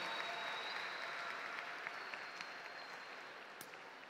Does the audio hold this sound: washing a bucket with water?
no